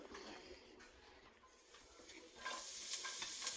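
Garlic frying in olive oil, stirred in a pan, a soft steady sizzle with light scraping that swells louder toward the end.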